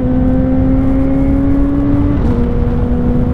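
A Kawasaki ZX-4RR sport motorcycle engine drones steadily while being ridden, loud and close, with a continuous high whine that dips briefly as the revs shift, over constant wind rush.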